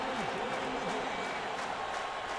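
Roaring stadium crowd in an India versus England cricket video game, a steady dense wash of cheering and applause holding at a constant level throughout, with commentary-like voice layered over it.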